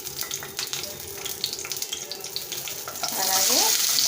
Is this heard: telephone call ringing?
no